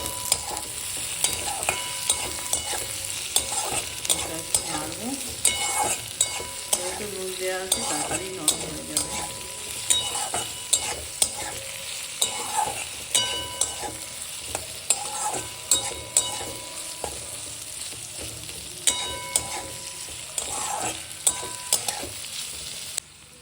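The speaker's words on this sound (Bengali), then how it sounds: "ক্যাপসিকামগুলো তো অলমোস্ট ভাজা হয়ে গেছে" Capsicum is stir-fried in a pan, with a constant soft sizzle and frequent sharp scrapes and knocks of a spatula against the pan in an irregular rhythm, close and with no talking.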